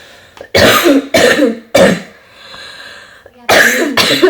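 A battery-powered toy makes harsh, mechanical-sounding coughing in loud bursts, with a short quiet pause before two more coughs close by.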